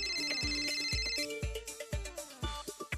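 An incoming call's phone ringtone plays alone, a bright melodic chime that repeats its short pattern several times at moderate volume, with no voices over it.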